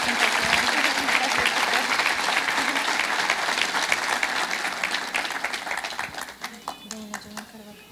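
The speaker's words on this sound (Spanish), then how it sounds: "démosle un fuerte aplauso al Señor" A church congregation gives a long, dense round of applause, loud and steady for several seconds before thinning into scattered claps near the end, with a few voices mixed in.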